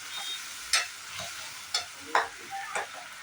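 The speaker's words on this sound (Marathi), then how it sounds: "आता ह्याच्यामध्ये कॉर्नफ्लावरची पेस्ट टाकायची परतून घ्यायचं तर एक मिनिटभर" Green chili paste with a little water sautéing in a pan for soya chili, with a gentle steady sizzle broken by several sharp scraping stirs of a spoon, close and fairly quiet, no talk.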